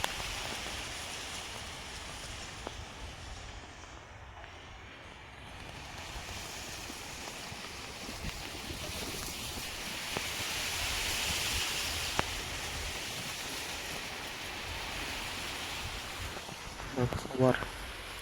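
Irrigation water pours steadily into a dry sugarcane field, a continuous broadband rush that swells slightly midway, with a brief clatter near the end; no speech is heard.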